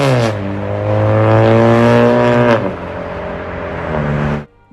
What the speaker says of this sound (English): I put the exhaust first in the bad tier to let you decide on whether or not you think it sounds good.